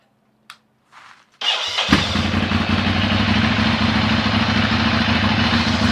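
A Ducati Monster motorcycle, being prepared for track use, starts with a brief crank and catches. It then settles into a loud, steady, throbbing idle close by, and no one speaks.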